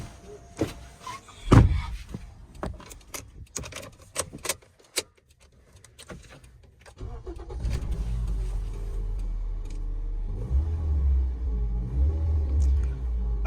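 A car that has just had an engine mount repair gives several sharp clicks and knocks, then after a short pause its engine starts and settles into a steady, close low idle. No voices are heard.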